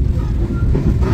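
An Argo passenger train arrives at a station platform, a loud continuous low rumble of rolling wheels and carriage noise heard from aboard.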